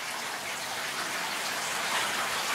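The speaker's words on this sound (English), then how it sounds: "It's raining here right now." Steady, dense rain hisses outdoors during Hurricane Delta in Broussard, a continuous even wash of falling water with no voices.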